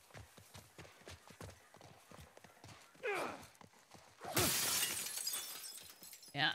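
A car window is smashed in the video game The Last of Us Part I. Quiet rhythmic footsteps lead up to one loud, sharp shatter of breaking glass, then scattered debris settles.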